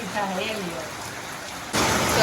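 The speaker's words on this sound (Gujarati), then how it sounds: "અત્યારમાં વરસાદ ચાલુ થઈ ગયો છે" Heavy monsoon rain falls as a dense, hissing wash over a farm at groundnut sowing time, surging louder near the end, with a faint voice briefly at the start.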